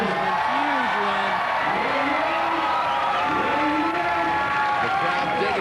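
Crowd noise at a pro motocross freestyle event at the 2001 Asian X Games in Malaysia, a steady loud roar of cheering spectators with a commentator talking over it throughout.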